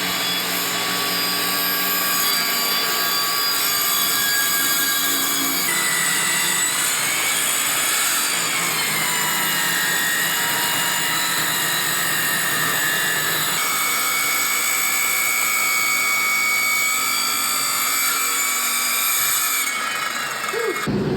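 A power saw runs steadily and loudly through the edge of a wooden interior door for the whole stretch, its high whine and grinding texture shifting slightly as the cut progresses.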